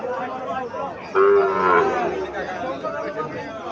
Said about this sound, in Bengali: এখানে আরো একটা বাছুর দেখা যাচ্ছে, সাইবাল জাতের বাছুর।